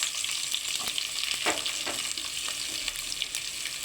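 Onions frying in hot oil with bay leaf, cinnamon and cloves for tomato rice, a continuous close sizzle with scattered spoon scrapes and soft knocks against the pan.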